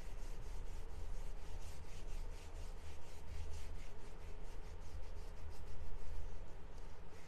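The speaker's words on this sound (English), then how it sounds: "grab a little bit of wax. I like to just kind of mix it up on here and then just kind of go right over top." Wax is rubbed over a painted wooden drop-in box frame, a steady close scratchy rubbing with rhythmic back-and-forth strokes and no talk.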